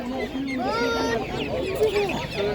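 Chickens at a market cluck and squawk continuously in a close, busy chorus of short rising and falling calls, with a little talk mixed in.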